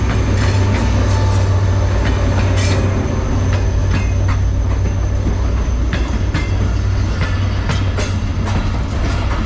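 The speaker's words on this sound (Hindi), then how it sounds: "आज के व्लॉग का पहला एक्शन मिल्लत एक्सप्रेस।" The Millat Express rolls into Shorkot Cantt railway station with a heavy, continuous low rumble and rhythmic clickety-clack of wheels over rail joints, loud and close throughout.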